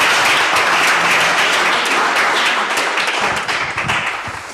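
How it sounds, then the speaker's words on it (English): An audience at a conference opening event claps loudly and densely, and the applause fades gradually over a few seconds. "Encourage her with an applause."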